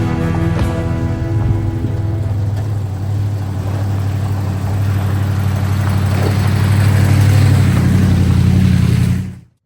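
A 1978 Dodge engine idles steadily after light carburetor work, a loud continuous low rumble with a slight rise near the end before cutting off abruptly.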